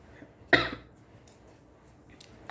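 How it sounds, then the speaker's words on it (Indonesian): A single sharp cough rings out, then quiet room tone, with another cough beginning right at the end. "Jadi batuk."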